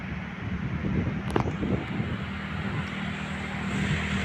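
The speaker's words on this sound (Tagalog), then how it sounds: "Mahangin." Wind blowing outdoors at a pigeon training release, a steady rushing and buffeting noise with a low rumble across the microphone, continuous for a few seconds without speech.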